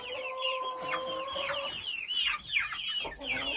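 Chickens clucking and chirping in a coop, with an old rooster present, close and fairly quiet, overlapping calls and a brief tonal call.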